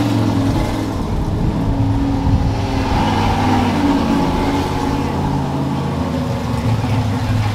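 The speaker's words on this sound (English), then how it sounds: "Race car." Drag race cars at an NMCA event in Martin, Michigan, one with a Torque Storm supercharger, drone with a loud continuous engine roar that holds steady throughout, thick in the low end.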